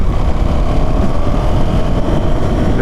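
A 2026 KTM Duke 390 (350cc) motorcycle engine roars loudly and continuously up close, a dense, steady rumble under wind noise with no speech, pulling smoothly through the short stretch.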